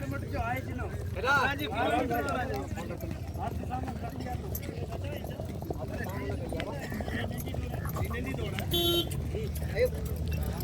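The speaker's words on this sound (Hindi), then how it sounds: "सभी घोड़े अभी लाइन में इकट्ठा हो चुके हैं दोस्तों" Horses lining up on the Dhordo field in Kutch for a small revaal gait event clop their hooves in the background, under near voices talking, with a brief vehicle horn sounding toward the end.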